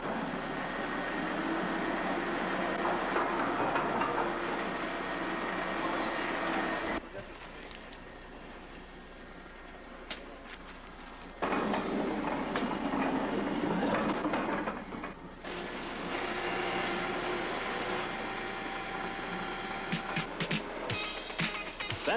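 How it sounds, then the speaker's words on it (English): Newspaper printing presses run at the Toronto Sun early in the morning, a loud, steady mechanical roar with rhythmic clatter that drops quieter midway and then surges back, with no voices. "That's the sound of the presses of the Toronto Sun early this morning."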